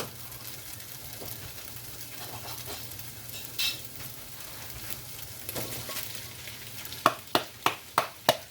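Vegetables sizzle in a hot pan with a steady frying hiss and intermittent stirring scrapes, ending in a run of five sharp, regular utensil taps against the pan; close and moderately loud, no talking.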